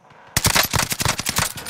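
Rapid automatic gunfire from a shooter video game, a sudden close burst of sharp, closely spaced shots following a quiet moment and continuing without pause.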